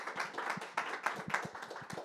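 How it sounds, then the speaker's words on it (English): Hands clap for a business partner at a jazz event, sparse and uneven, with distinct individual claps rising from a small group rather than a dense roar. "So a round of applause for him."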